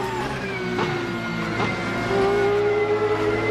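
A race car engine in the video game Assetto Corsa hums steadily at a fairly constant pitch, moderately loud and close, rising slightly in intensity toward the end.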